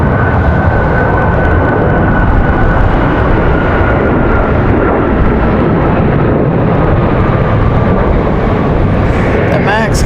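A United Boeing 737 MAX takes off from Raleigh-Durham International in gusty wind, a loud, steady engine roar mixed with buffeting wind noise that persists throughout, with someone speaking faintly over it.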